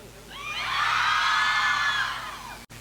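Girl students in the audience at a large school educational event let out a loud, sustained high-pitched cheer and scream that swells over about two seconds and then fades away.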